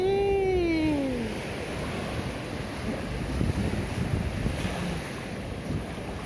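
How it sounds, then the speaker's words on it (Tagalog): Ocean waves crash and wash steadily on a beach in a continuous broad roar, with wind buffeting the microphone, after a brief rising whistle at the start. "Sarap pakinggan ang hampas ng mga alon"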